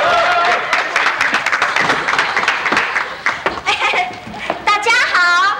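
Studio audience applause at a 1990s Taiwanese variety show, clapping and cheering welcoming a singer to the stage, with a host's voice talking over the noise and a few excited shouts.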